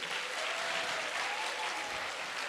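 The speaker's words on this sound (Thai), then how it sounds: "ขอเสียงปรบมือดัง ๆ ให้กับ อัลติมาผู้บริหารระดับสูง" Brief, fairly quiet burst of audience applause for senior executives at a motivational business talk, an even patter of many hands without pause.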